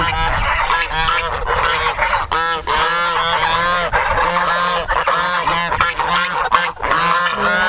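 A noisy farm flock of geese honks continuously and loudly, many overlapping calls close by with no pauses.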